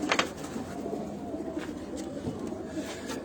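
Pigeons in a loft coo steadily and close by, a low murmuring warble running through the whole stretch, with a few brief higher calls and faint rustling mixed in.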